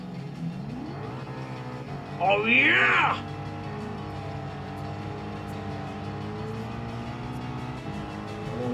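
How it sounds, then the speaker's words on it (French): Engines of rally cars in a Gran Turismo 7 race with only two cars, a steady motor drone throughout with a brief louder rising rev or tyre burst near the middle, under excited talk. "Avec des grosses voitures de rallye là comme ça là."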